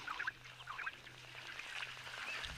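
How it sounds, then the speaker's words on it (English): A large flock of birds calls all at once in a natural setting, with a dense, continuous chatter of overlapping honking and quacking cries that sounds fairly close and stays steady throughout. "It literally sounds like thousands of birds shouting or chirping at once."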